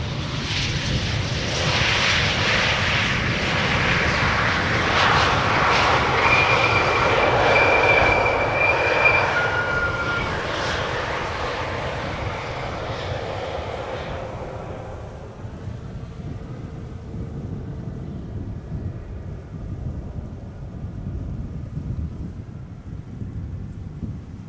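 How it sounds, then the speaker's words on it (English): KLM passenger jet, a flight arriving from Edinburgh, comes in to land at Amsterdam Schiphol, a loud roaring engine swell that peaks and then fades into quieter distant rumble. "KLM flight 924 arriving from Edinburgh."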